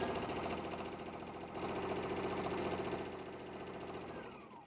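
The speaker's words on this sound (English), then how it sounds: "So what we're going to do is just sew across the bottom edge." A sewing machine stitches across the bottom edge of a fabric pocket, its steady whirring motor running continuously at close range for several seconds before slowing near the end.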